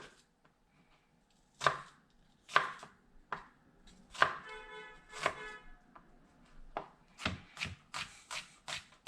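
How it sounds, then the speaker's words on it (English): Garlic being chopped with a knife on a cutting board for a curry redfish dish: sharp, close knocks, first spaced apart and then speeding into a steady run of quick chops, with no talk. "We'll chop our garlic same."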